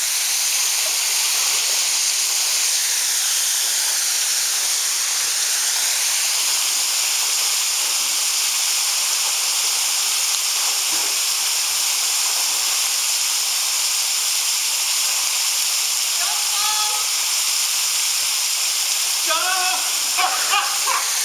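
Rushing water of a waterfall on Madeira, a loud constant broadband hiss filling the whole clip, with faint voices briefly rising under it near the end.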